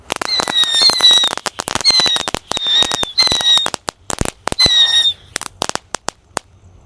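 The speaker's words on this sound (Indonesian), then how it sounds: "yang kita nyalakan di sini ada mercon tikusan pretek yang warna kuning guys" Six yellow tikusan pretek firecrackers lit together as Eid al-Adha fireworks, giving a dense run of sharp crackling pops threaded with shrill squealing whistles, sputtering in bursts for about five seconds before a few scattered final cracks.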